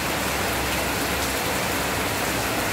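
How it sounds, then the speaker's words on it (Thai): Heavy rain pours down steadily on a rainy day in Thailand, a dense, continuous hiss of drops hitting surfaces up close, with no voices over it. "ฝนตกมาสักครึ่งชั่วโมงแล้วค่ะทุกท่าน ตกหนักนะคะ"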